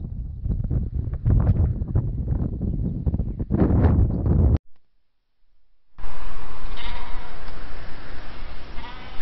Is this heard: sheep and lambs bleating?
yes